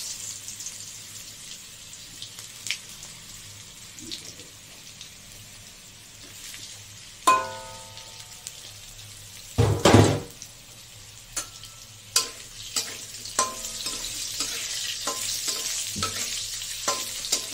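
Steamed potatoes hit hot oil tempered with fennel seeds, a soft sizzle followed by a loud burst of frying and then repeated stirring scrapes and clatters over continuous crackling.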